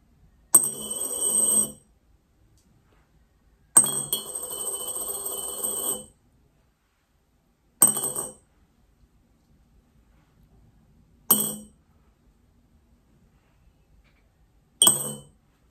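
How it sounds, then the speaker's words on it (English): Coins drop one at a time into a cup during a primary-school counting activity: five separate metallic clinks, each ringing bright and then fading, with silent gaps of a few seconds between drops. "How many coins did you hear?"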